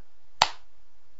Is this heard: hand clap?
yes